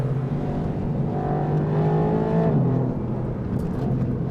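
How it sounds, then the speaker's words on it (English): A Mercedes-AMG GT R Pro engine revs while driving, a loud, close, continuous drone that climbs in pitch and then drops away midway before settling into a steady run, with no talking. "You've got a lot of rev sound coming that I think you guys can hear."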